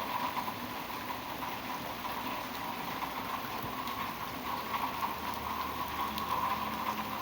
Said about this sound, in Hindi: बारिश कितनी तेज़ है, देखिए पूरी बौछार इतनी तेज़ है